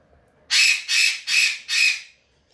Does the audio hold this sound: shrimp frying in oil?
no